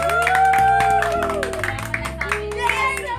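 Hands clapping in quick sharp claps at a Filipino street food stall, mixed with lively voices and street music in the background.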